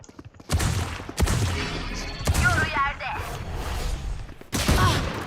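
Gunfire in the video game Valorant comes as loud bursts of rapid shots in several separate volleys, with a voice talking over the action between and under the firing.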